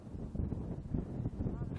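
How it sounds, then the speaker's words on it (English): Strong gusty wind buffets the microphone at an RC airplane flying field, producing a low, rumbling roar that surges and drops throughout. "It is crazy windy"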